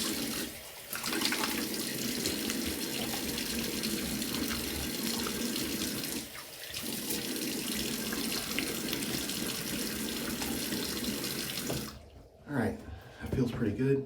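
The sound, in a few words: water running from a tap, rinsing during shaving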